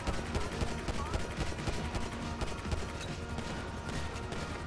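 Dense, continuous gunfire in the video game GTA V, loud and chaotic with rapid overlapping shots and mechanical clatter throughout.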